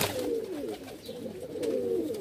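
Pigeons coo continuously in a low, warbling stream, several birds overlapping at close range with no talk, at a pigeon sale in Bhopal.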